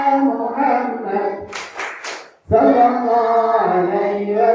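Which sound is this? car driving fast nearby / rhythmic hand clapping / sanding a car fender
rhythmic hand clapping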